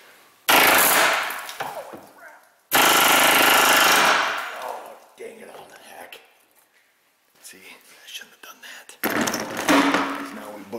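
An impact wrench hammers a Ford Explorer Sport Trac rear spring shackle bolt with no socket fitted, in loud rattling bursts of about two seconds each, close by, with quiet talk between bursts.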